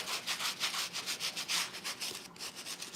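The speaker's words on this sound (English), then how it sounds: "I'm just going to get to scrubbing." A brush scrubbing shoes clean in rapid back-and-forth strokes, a close, bristly, rhythmic swishing that pulses steadily with no voices.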